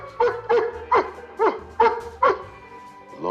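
A dog in a spy comedy film scene gives a series of six short, sharp yelping barks at an even rhythm, close and loud, with no talking over it.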